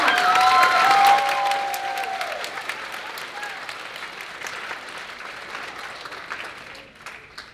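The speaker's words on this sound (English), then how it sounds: "Big round of applause for Kenzie Brown." An audience at a graduation ceremony applauds, a dense wash of clapping that starts loud and gradually thins and fades over several seconds, with a few voices briefly audible at the start.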